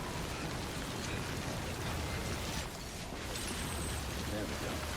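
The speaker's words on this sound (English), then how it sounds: "Uh-oh, the rain is starting." Steady rain falls in the Death Stranding video game, a dense continuous hiss of drops filling the scene at an even level, with a brief dip partway through before the downpour carries on.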